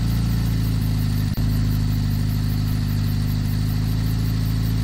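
A car engine in a horror video game idles and hums steadily at a loud, constant level, with a brief thump partway through and no voices.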